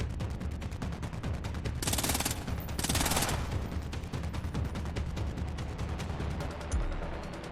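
Rapid automatic gunfire from Splinter Cell: Blacklist rattles loud and continuous through the whole stretch, swelling into two brighter, harsher bursts partway through, with no talking over it.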